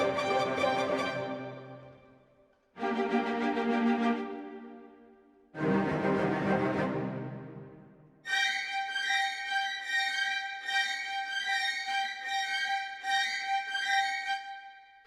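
Spitfire Symphonic Motions orchestral sample library plays alone: three separate swelling chord phrases, each fading out, then a brighter, denser texture of rapid repeated notes sustains to the end.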